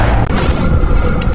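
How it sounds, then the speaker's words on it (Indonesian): A shotgun blast booms in a film shootout, one heavy, loud report that rolls into a dense rumbling tail. "Jimmy yang masih selamat pun mengambil shotgun puter dan langsung Tembak si Imron."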